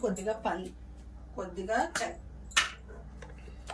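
A spoon stirs fruit custard salad in a bowl, with a few sharp clinks against the bowl as a person talks over it.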